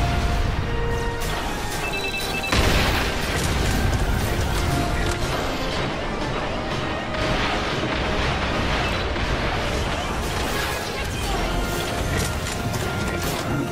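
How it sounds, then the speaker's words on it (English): Missiles explode in the Toy Soldiers War Chest video game, giving a dense, continuous barrage of booming blasts and crashing impacts that stays loud throughout. "Shoot missiles."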